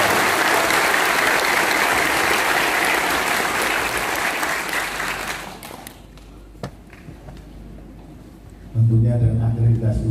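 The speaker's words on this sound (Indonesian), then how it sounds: "Tepuk tangan." An audience at a cadet inauguration night in Makassar breaks into loud, dense applause that tapers off after about six seconds, followed by a few scattered claps and then a voice speaking.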